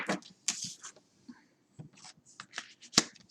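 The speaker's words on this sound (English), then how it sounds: "Okay, one more shuffle." A final short shuffle of a tarot deck gives a brief, close flutter of cards, fairly quiet, with a faint voice in the background.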